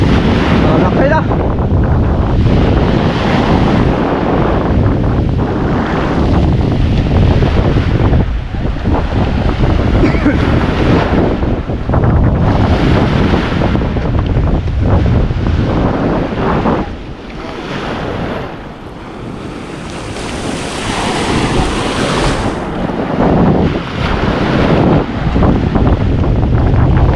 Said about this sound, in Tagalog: Lalaki na ng alon